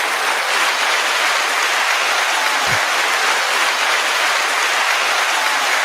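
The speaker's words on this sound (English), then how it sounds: "Give a big round of applause for Jamel Watson." Audience applause for Jamel Watson fills the whole stretch, a steady, even hiss of many distant hands clapping with no breaks and one brief low thump midway.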